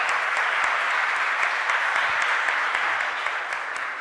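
A conference audience applauds steadily and fairly loudly throughout, a dense, even wash of clapping with no break and no voices on top.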